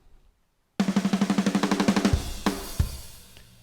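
Programmed drums play a quick run of snare hits that grow steadily louder, followed by a few heavy kick and cymbal accents.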